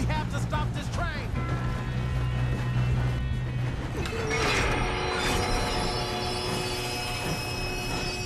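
Moving train in Red Dead Redemption 2, a steady mechanical rumble of rolling rail cars with metallic squeals and clanks, heard under game effects and a voice talking.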